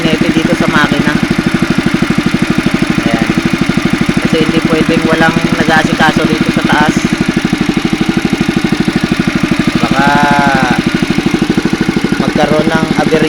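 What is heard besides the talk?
boat engine running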